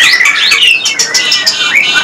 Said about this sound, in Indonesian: Jalak suren yang terpantau gacor.